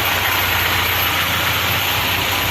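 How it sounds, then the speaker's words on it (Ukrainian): A VAZ car engine idles steadily and roughly at close range, a constant low rumble with slight roughness and vibration, no voices. "Ну і так, щось мотором трохи підтрухує."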